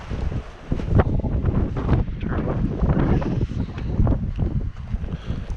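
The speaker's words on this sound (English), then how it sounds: "It's quite the snowstorm right now." Snowstorm wind gusts outdoors beside a parked 2005 Duramax, buffeting the microphone with loud, rough, continuous roaring that swells and dips over several seconds.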